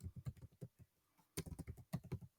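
Typing on a computer keyboard during a Python strings tutorial: quick clusters of close, crisp key taps, a brief pause, then another burst of keystrokes.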